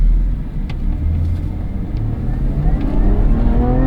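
Lotus Emira sports car engine revving hard under acceleration, a loud close rumbling roar with rising pitch and brief stutters as traction control cuts in.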